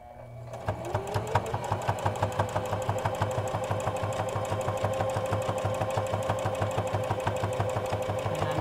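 A sewing machine stitches a fabric mask, its needle thumping in a fast, even rhythm after a brief start, close and clear with no talking.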